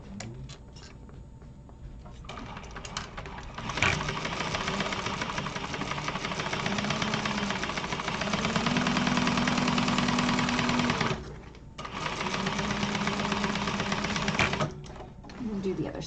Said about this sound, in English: Now I am going to go in with a second line of stitching on these